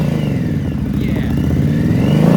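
A 2017 Victory Octane 1200cc V-twin hot rod cruiser motorcycle engine idles and revs with a deep, steady rumble, close and loud, building slightly toward the end with no talk over it.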